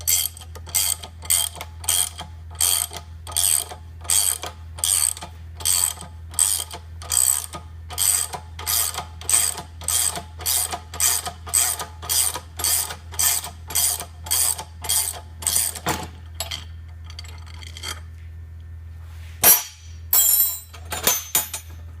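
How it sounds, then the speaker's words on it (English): Wrench turning against the frame of a Toro short roller during bearing removal, a steady series of evenly spaced ratcheting clicks close up for about sixteen seconds, then a pause and a few faster clicks, over a constant low machine hum. "15mm wrench up against the frame."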